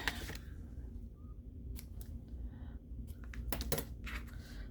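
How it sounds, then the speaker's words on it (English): A few crisp scissor snips spaced out over several seconds, close by, with faint handling noises between them in a quiet room. "All right, get my scissors."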